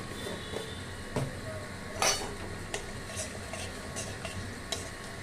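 Mutton frying in a pot with cloves, dried red chillies and a little sugar: a soft, low sizzle with occasional scrapes and light metallic clinks of a spoon against the pot, fairly quiet and without speech.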